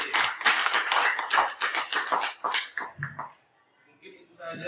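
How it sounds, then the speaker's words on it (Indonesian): A small group at a school teachers' gathering claps together in a burst of quick, uneven applause that fades after about three seconds, followed by a few faint sounds. "mari kita berikan tepuk tangan dulu"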